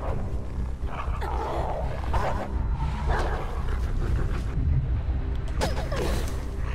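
A dog in the video game Beyond: Two Souls snarls, growls and barks while attacking and biting, rough aggressive bursts over a low rumbling game soundscape.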